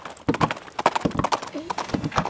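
A horse's hooves beat on an arena surface during a riding lesson, a close, rhythmic series of thuds in quick groups, with voices faintly in the background.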